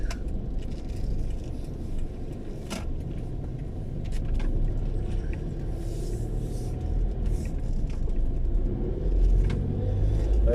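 A car drives and turns right through busy city traffic in Naga City, a constant loud road rumble and engine drone with passing vehicles and occasional higher clatter throughout.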